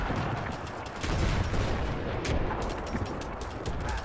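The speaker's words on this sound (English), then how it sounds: "that's a lot of machine gun fire coming in right there" Dense, continuous machine gun fire in the WW1 video game Between Empires, rapid overlapping bursts and cracks forming a steady loud wall of gunfire with no pauses across the whole stretch.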